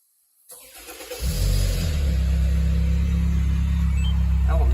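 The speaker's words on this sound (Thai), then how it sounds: "ถ้ารถมันสตาร์ทอยู่อ่ะผมสั่งสตาร์ทไปก่อน" A Honda Freed GB3 with a remote-start kit fires up after a moment of silence, cranking briefly and then settling into a steady, close idle.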